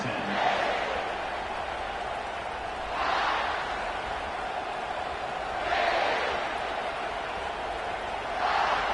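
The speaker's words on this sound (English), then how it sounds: "This crowd bringing an ear-splitting welcome to their visitors." A stadium crowd at a college football game involving LSU roars from a distance, the cheering swelling in broad waves about every three seconds over a constant murmur.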